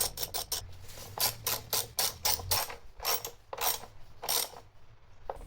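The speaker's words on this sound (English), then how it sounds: "I use the Torx socket wrench to tighten the battery clamp into place." A Torx socket wrench ratchets as it tightens the battery clamp on a Mercedes, giving close, crisp bursts of clicking strokes in an uneven rhythm, with no talking.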